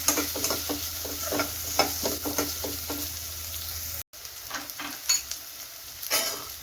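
Onions fry in a pan with a soft, continuous sizzle, while a spoon stirs in repeated scraping strokes close by, with a brief cut midway.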